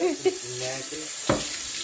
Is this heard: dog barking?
no